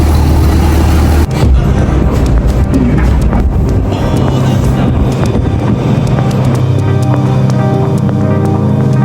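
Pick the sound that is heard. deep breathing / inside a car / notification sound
inside a car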